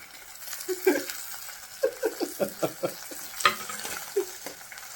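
Green chilies and curry leaves sizzle in hot oil for a Kerala fish curry, with a series of close, crisp pops and spits as a spoon stirs and scrapes the pan.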